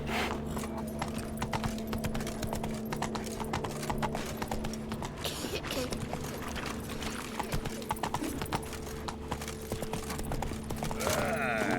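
A horse gallops in The Witcher 3: Wild Hunt, with brisk, rhythmic hoofbeats that drum steadily throughout over a low, droning game soundtrack.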